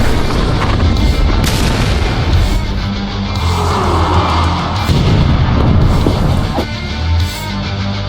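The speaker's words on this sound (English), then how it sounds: "The explosion was very severe, wrecking the first 6 cars on its consist" A loud, heavy rumbling blast with roaring, rolling low noise that sustains throughout: a Pennsylvania Railroad L1 Mikado steam locomotive's boiler explosion, with low water.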